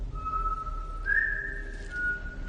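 A man whistles a sustained, wavering tune at moderate loudness in a film scene, with a faint background hum and no speech.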